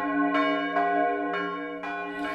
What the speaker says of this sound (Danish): så ringes der stadigvæk på gammeldags ordentligt maner